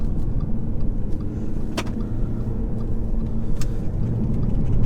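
Inside a 2016 Audi A5 2.0 TDI shifted into manual gear mode, a steady low road and engine rumble fills the cabin at a constant level, with a couple of faint short ticks over it and no talking.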